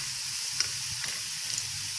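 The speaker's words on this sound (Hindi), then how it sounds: "प्याज को हम फ्राई करेंगे" Onions sizzling and frying in hot oil in a pan while cooking beef biryani, a steady soft crackling hiss with a few brief pops, close and fairly quiet, no talking.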